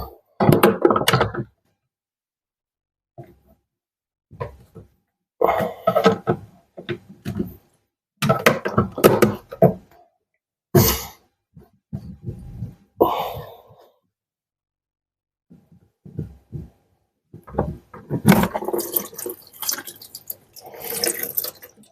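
Water runs and splashes in bursts as an aquarium pipe prefilter on a 540-litre tank is bled and unscrewed, with intermittent pours and drips separated by quiet pauses, louder rushing toward the end.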